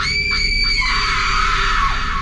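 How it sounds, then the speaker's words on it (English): A ghostly woman's piercing scream, a sustained high shriek that holds loud and steady for about two seconds, close and alone. "A piercing scream shattered the silence, sending an icy shock through the room."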